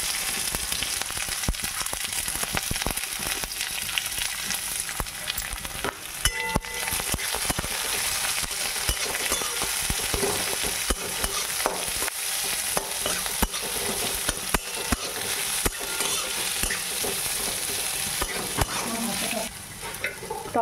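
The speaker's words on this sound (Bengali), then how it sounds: "এবার পেঁয়াজের স্লাইসগুলো দিয়ে দেবো।" Sliced onions frying with whole garam masala and cumin in hot oil in a handi for chicken curry on a gas stove, a dense steady sizzle throughout, with stirring scrapes and clatter mixed in.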